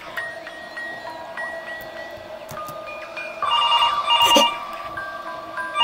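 A telephone rings in the horror video game Mr Hopps Playhouse, its repeated electronic ringtone bursts sounding over a low ambient drone and growing louder toward the end, with no talking.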